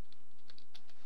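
Quick keystrokes on a computer keyboard while code is typed, a short burst of light, irregular clicks close up with no voices.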